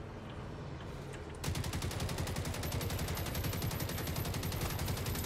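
Rapid automatic gunfire in the video game Generation Zero bursts out after a brief quieter lead-in, then keeps hammering steadily and loudly to the end, with game-like background sound beneath.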